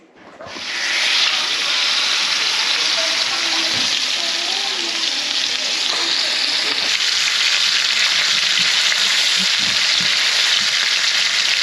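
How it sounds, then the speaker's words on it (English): Steak sizzles in a hot pan, a steady loud frying hiss that swells in the first second and holds, with faint scraping and clinks of a utensil underneath. "I'll be cooking some steak here"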